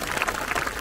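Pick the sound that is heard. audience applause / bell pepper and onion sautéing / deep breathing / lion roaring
audience applause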